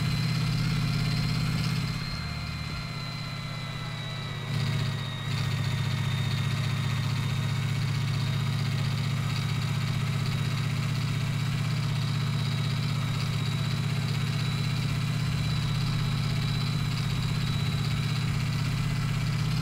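A roadster's engine drones steadily while driving in GearBlocks, with a brief dip in the note as it shifts from second into third, then holds an even, continuous hum.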